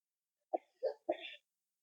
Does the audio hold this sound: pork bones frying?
no